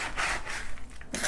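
A wooden spoon stirs a house plant soil mix, making a continuous close, gritty rubbing and scraping sound.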